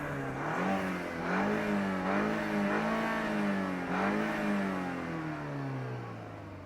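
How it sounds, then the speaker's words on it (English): A BMW F30 328i petrol engine is revved several times, each rise and fall in pitch clearly audible. The revving stands alone at moderate volume before tapering off. "I'm going to show you all how the engine sounds right here and now."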